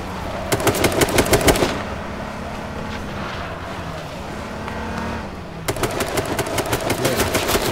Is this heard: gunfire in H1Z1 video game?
yes